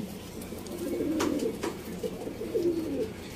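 Pigeons coo softly in low, rolling phrases, a couple of murmuring calls close by with faint background noise.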